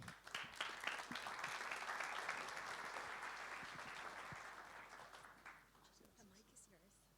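A conference audience gives sustained applause at an international district energy event, a steady wash of many hands clapping at moderate distance that slowly fades out over several seconds.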